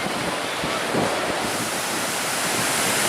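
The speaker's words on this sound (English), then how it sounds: "Get some good video of the waves coming in." Ocean waves roll in at the Virginia Beach fishing pier as a broad, steady roar of surf, with wind buffeting the microphone throughout.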